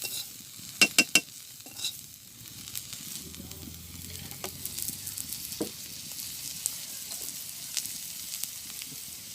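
Onion and chili frying in hot oil in a home kitchen, a soft continuous sizzle with scattered spatula scrapes and clicks, including a few sharp knocks early on.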